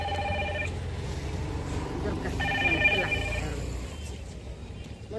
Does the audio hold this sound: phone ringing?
yes